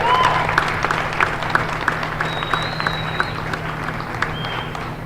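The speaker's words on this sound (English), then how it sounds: "Everyone, let's give Jefferson a round of applause." A crowd in a high school girls' basketball gym applauds, a steady clapping wash with scattered sharp claps, a steady low hum underneath and a few squeaky tones over the top.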